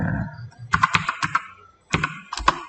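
Fingers type on a computer keyboard to enter menu items into a catering program. Two short bursts of crisp, close key clicks are separated by a brief pause.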